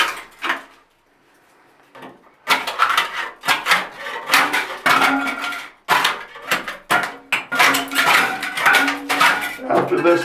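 Plastic bath tiles being pried off glued wallboard with a thin-bladed drywall tool, giving close scraping, cracking and knocking bursts in irregular clusters after a brief quieter pause, with no voice heard.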